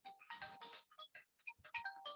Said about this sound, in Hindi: तुम्हारा फोन है भाई